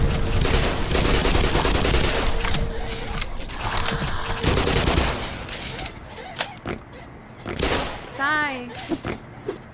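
Rapid, loud gunfire from Black Mesa, the Half-Life remake, rattles in dense bursts for several seconds before thinning into scattered mechanical clanks and game effects, with a person speaking over the action.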